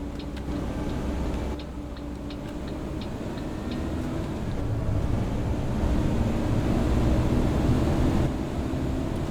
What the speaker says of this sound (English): The engine sounds are just as loud, whether you be at the front here or whether you be at the back.